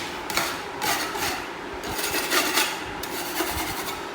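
Sandpaper rubbed over a windowsill by hand, rhythmic rasping strokes in quick back-and-forth bursts, close and fairly loud, with no voices.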